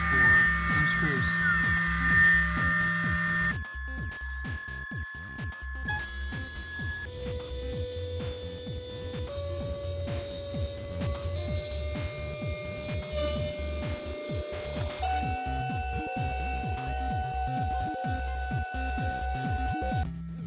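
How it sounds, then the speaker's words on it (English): A converted Sable 2015 desktop CNC machine cuts screw recesses, its stepper motors whining in shifting sustained tones that change pitch in distinct steps, loud and continuous with no talking. "Right now it's just cutting the recesses for some screws."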